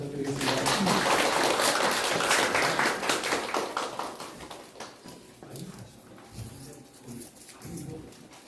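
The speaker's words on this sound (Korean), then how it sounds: "큰 박수 부탁드리겠습니다." Audience applause at a public forum, a dense burst of many hands clapping that is loudest at first and fades over several seconds, with faint voices underneath.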